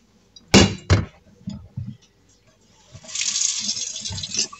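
Kefir grains rinsed under a running kitchen tap, opening with a few clunks and handling knocks before a steady, fairly loud rush of water flows over them.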